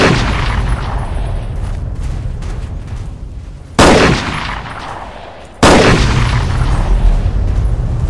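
Gunfire in Fallout 3: loud booming shots, two heavy blasts a couple of seconds apart that ring out and decay slowly over a rumbling background, with no talk.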